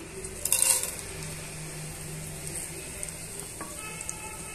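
Mustard seeds, cumin, chana dal and broken red chilies sizzle softly in hot oil with a steady low crackle, marked by a brief louder spatter and a few light clinks of a utensil.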